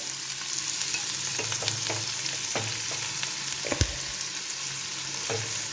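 Sliced onions with a pinch of salt sauté in a pan, giving a steady close sizzle with occasional light clicks and scrapes of stirring. No voices are heard.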